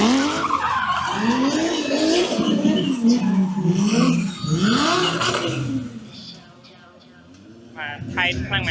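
Car drifting in Cambodia until its axle snaps, with harsh tire squeal and skidding rising and falling over several seconds; engine noise and voices mix in, then things quiet before a final burst of squeal.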